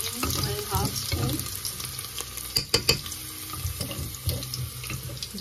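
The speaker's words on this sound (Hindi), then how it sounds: "ऑयल मेरा गर्म हो चुका है तो मैं इसमें जो है अदरक लहसुन का पेस्ट डालने लगी हूँ" Ginger-garlic paste hits hot oil with a rushing, watery sizzle, close and fairly loud. A few sharp clatters of a spoon or pan mark the middle, and there are no voices.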